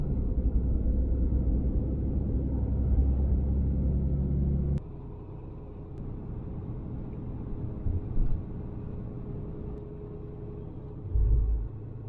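A 2021 Ram 3500 pickup truck climbing a big mountain road, with a loud, steady low engine drone and road rumble for several seconds that then drops to a quieter, smoother cabin hum with occasional low thumps.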